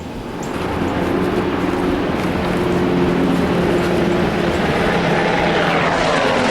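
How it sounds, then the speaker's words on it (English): A low-flying army helicopter drones overhead with a loud, continuous rotor and engine roar that swells in and holds steady throughout. "Army chopper's flying so low"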